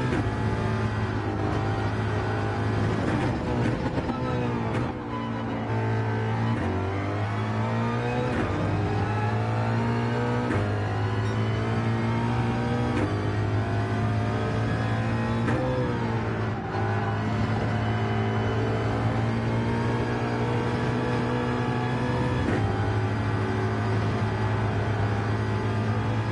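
A race car engine in a racing video game drones loudly and continuously, its pitch rising and falling through repeated shifts and revs as the car slides, with no talk.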